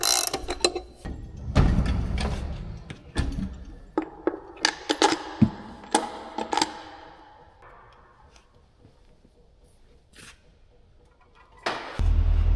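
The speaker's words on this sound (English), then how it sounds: "15/16 and a 24 millimeter are close enough to the same that we were able to use this gear wrench." A gear wrench ratchets on a 15/16-inch or 24 mm bolt on a planter, giving bursts of close, loud clicking strokes with pauses between, then fading to quiet before a final clatter.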